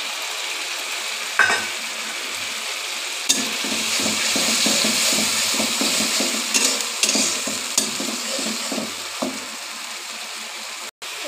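Shrimp go into a hot pan with a quick splashy hiss and then fry in a loud, continuous sizzle, close by, with occasional scraping and stirring knocks.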